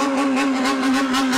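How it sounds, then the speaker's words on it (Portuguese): Motorcycle with its muffler removed, revving in Japan: a harsh, buzzing engine note with a strong steady tone and pulsing surges, fairly loud and close, with no speech over it. "aí também os motoqueiros tiram o silenciador da moto"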